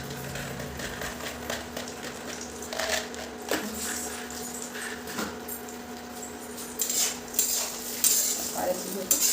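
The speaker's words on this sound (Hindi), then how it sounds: "सारे चीज़ों को भून लेंगे हल्का सा रेड होने तक" Dry fruits and raisins are roasted in a pan and stirred with a utensil, giving soft scraping and clinking over a gentle sizzle, with occasional louder metal knocks toward the end.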